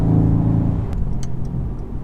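A 2018 Mercedes-Benz C63S AMG sedan's engine rumbles deep and loud from inside the car during a downshift, with a few faint clicks over the steady low drone.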